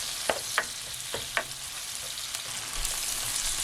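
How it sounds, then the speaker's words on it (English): Ginger garlic paste and chilies sautéing in a pan for egg biryani, a close, soft sizzle with a few quick stirring scrapes early on, moderately quiet and without speech. "Added the ginger garlic paste and the chilies. And I'm just gonna saute that for a minute or 2 until they're fragrant."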